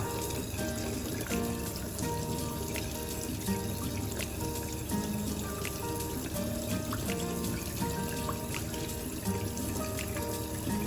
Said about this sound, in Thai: ล้างคราบสิ่งสกปรกของไข่ออกทั้งหมดนะครับ ไม่ต้องใช้น้ำยาล้างนะครับ ให้ล้างน้ำเปล่า